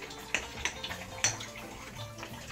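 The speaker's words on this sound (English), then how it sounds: "So turn your warm water back on." Warm water runs from a kitchen tap while homemade bread dough is being mixed, giving a steady splashing flow with a few clinks of dishes, close and fairly loud, with no talking.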